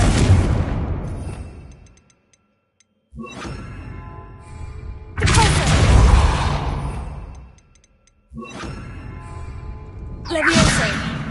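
Confringo explosion spell in the video game Hogwarts Legacy, a repeated series of loud booming blasts, each with a whooshing onset and a decaying rumble, separated by short gaps of near silence.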